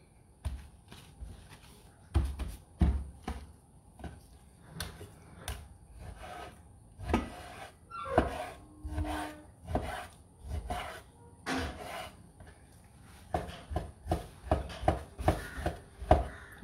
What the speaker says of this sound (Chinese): 我刚把这些先剁匀它，然后腌了来